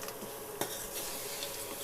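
Sweet opputtu (poli) filling is stirred in a pan over a low flame, a soft close scraping with a faint sizzle and one sharp utensil knock partway through, with no voices.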